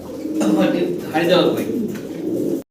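Pigeons coo in soft, rolling phrases close by, while someone talks over them throughout.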